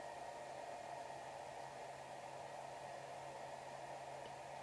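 A Monoprice Mini SLA resin 3D printer runs with a steady, quiet mechanical hum and faint fan-like whir, constant and even throughout with no talking.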